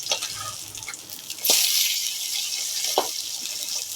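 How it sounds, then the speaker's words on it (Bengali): Fish frying in a pan in a Bengali home kitchen hisses with a steady bright sizzle, broken by a couple of sharper spits and crackles. "এই দেখো মাছ ভাজি, আজকে মাছের ঝোল"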